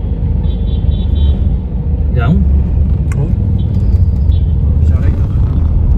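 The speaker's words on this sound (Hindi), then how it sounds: "देखो सारी ट्रैफिक ये है जी" Road traffic on Mall Road in Solan, Himachal Pradesh: a loud, continuous low rumble of cars and engines nearby, with a brief horn-like tone, while someone talks over it.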